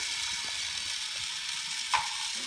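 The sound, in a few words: unscrewing parts of a toy tractor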